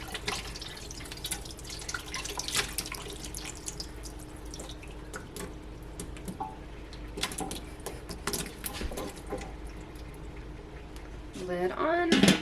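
Home-canned carrots and their juice pour over chicken in a roasting pan, a soft continuous splash and trickle of liquid with drips, faint, ending in a louder clatter.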